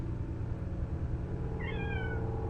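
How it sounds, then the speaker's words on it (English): A cat meows in a short run of rising and falling calls partway through, against a steady background hum and game audio. "just have to try to commentate over the meowing"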